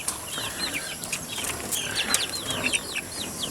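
A backyard chicken flock settling in its coop near dusk, with soft overlapping clucks and chirps coming from several birds at a steady low level.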